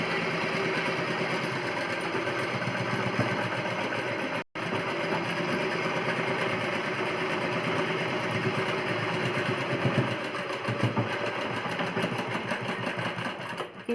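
A sewing machine runs steadily while stitching a plain cross-cut blouse, a continuous close mechanical whir with a fast repetitive rattle. A very brief pause near the middle interrupts it.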